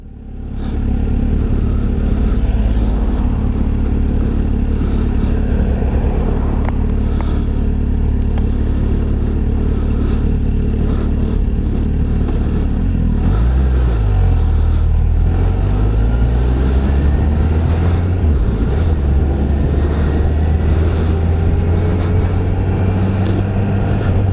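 A Kawasaki Ninja H2 SX SE motorcycle with a 1000 cc four-cylinder engine hums smoothly while riding, a loud, steady drone with gear-change dips and rising pitch sweeps as it accelerates, under constant wind rush.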